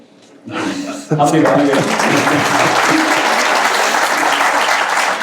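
An audience at a talk show breaks into loud, sustained applause after a brief stretch of talk and laughter, the clapping filling the room for several seconds.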